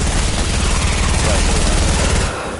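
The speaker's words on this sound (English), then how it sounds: "getting sniped at" Dense bursts of gunfire crackle steadily through a Fortnite match as a player comes under sniper fire, loud and continuous for most of the stretch before dropping off sharply near the end.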